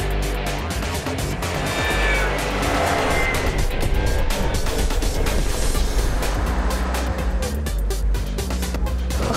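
A BMW C Evolution electric scooter prototype on a test ride at BMW Motorrad Days in Garmisch, heard as steady, loud road and wind rush with a faint rising motor whine, continuous throughout.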